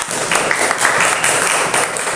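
Classroom applause for a student group in a school lesson, a short burst of brisk, close clapping from a small group, fairly loud and steady for about two seconds.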